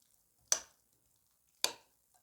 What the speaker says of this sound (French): Donc, vous mélangez bien.